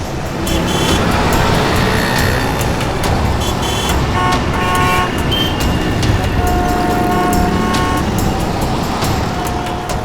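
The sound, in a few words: car speeding away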